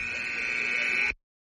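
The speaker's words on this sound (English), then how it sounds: "You just heard the buzzer go." A loud, steady electronic buzzer sounds for about a second at a boys' ice hockey game, then cuts off abruptly into silence.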